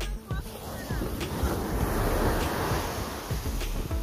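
Ocean waves surge and wash up a beach at a resort, a steady broadband rush of surf with gusty wind buffeting the microphone, continuous and close throughout.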